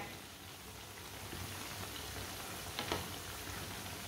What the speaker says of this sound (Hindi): दो मिनट के लिए एक साइड से पकौड़ों को पकने देते हैं।